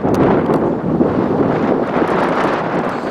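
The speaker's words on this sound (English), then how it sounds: "the wind here at the sports complex has started to increase" Strong wind buffeting the microphone at an outdoor sports complex during a pee-wee baseball game, a loud continuous rumbling roar that swells and eases slightly throughout.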